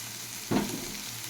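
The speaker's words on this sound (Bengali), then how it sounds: "নামিয়ে দেবো এটাকে, একটু নাড়াচাড়া করে নামিয়ে দেবো।" A dish of bitter dal with neem and lemon leaves is stirred in a pan with a short scraping swirl and soft sizzle, a single near stroke against a quiet kitchen background.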